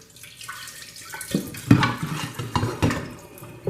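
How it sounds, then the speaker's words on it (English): Salmon rinsed under a cold running tap, a steady splashing stream of water with uneven bursts and splatters as the fish is turned and moved beneath the flow, fairly close and with no talking. "rinse our salmon under cold water"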